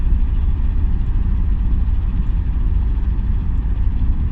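During a morning commute, a truck ahead in traffic gives off a loud, steady low engine rumble that fills the cabin without pause.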